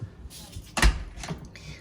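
Hotel suite door swinging shut with one solid thud in the middle, followed by a softer knock, all close and indoors.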